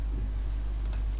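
A computer mouse is clicked on a booking system dashboard, giving two quick, light clicks near the end after a low, steady background hum.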